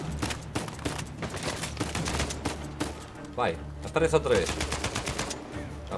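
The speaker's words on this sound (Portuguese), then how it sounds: "Eu nem sei para onde é que estava a disparar agora" Gunfire in the video game Uncharted 4, with rapid bursts of shots cracking repeatedly, some dense like automatic fire, while a player talks over the action.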